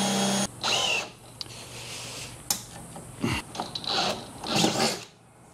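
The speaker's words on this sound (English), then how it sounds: "Drilling into my brand new tractor." A power drill bores a hole into the body of a new Husqvarna TS 242XD lawn tractor, with short whirring bursts, a rising whine and metallic grinding broken by brief pauses, close and fairly quiet.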